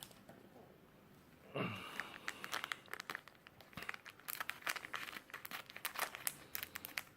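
Scissors cutting open a My Hero Academia trading card booster pack, a near crinkling of foil wrapper with short snips and rustles following a quiet start.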